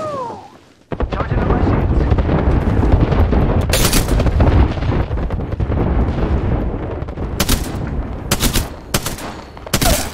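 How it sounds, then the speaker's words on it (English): Dense, continuous battle noise from a military shooter video game: booming airstrike blasts and rolling gunfire fill the whole stretch, with sharp bursts of shots cutting through near the end and shouted voices mixed underneath. "Joe, we got an airstrike coming down!"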